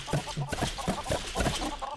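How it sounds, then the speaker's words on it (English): Chickens clucking in the LEGO Worlds video game: a dense cluster of short, overlapping clucks in a busy, fairly loud rhythm over a noisy game background. "I gotta shoot more chickens out"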